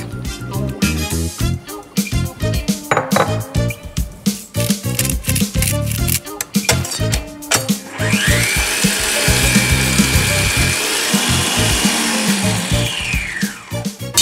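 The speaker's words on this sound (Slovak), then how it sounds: "S bielkou a štipky soli si vyšľaháme tuhý sneh." An electric hand mixer whips egg whites with a pinch of salt into stiff peaks for egg-liqueur tiramisu: clattering, knocking bursts at first, then a loud, steady high whirring drone that runs on to the end.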